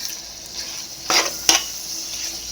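Chicken fry with masala and coconut powder being mixed in a pan, a low sizzle under two brief scraping stirs close by, otherwise fairly quiet.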